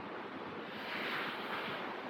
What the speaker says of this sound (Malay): Lepas tu kawasan ni dia sungai. Ni aku cakap sungai berbentuk kolam.